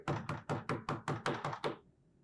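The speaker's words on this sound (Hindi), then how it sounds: "साहिर, साहिर, दरवाजा देखो प्लीज" Someone knocks on a door in a home, nine quick, loud, evenly spaced knocks in a steady rhythm, heard close up with nothing else around them.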